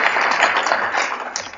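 Audience applause for Jeff Taylor at an HIV and AIDS panel, a dense steady wash of clapping heard up close and filling the short stretch without pause.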